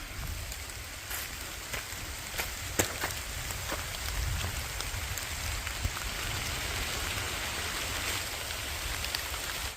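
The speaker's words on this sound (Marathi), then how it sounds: "पाऊस आता जरा कमी झाले" The first monsoon rain falls steadily on a village, a dense, even patter of raindrops with occasional louder drips, continuous and close, with no voices.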